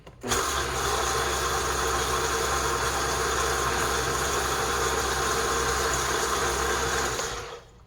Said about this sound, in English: here is the Vitamix on medium